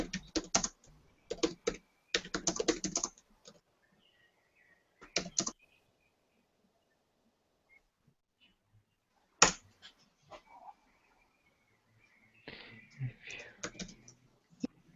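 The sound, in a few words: typing a sentence on a keyboard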